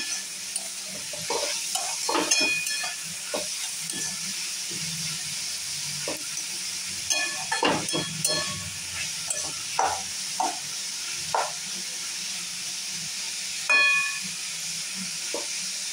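Food sizzles steadily in a pan seasoned with salt and turmeric while semolina pulao is being made, with repeated scraping stirs and occasional utensil clinks against the pan.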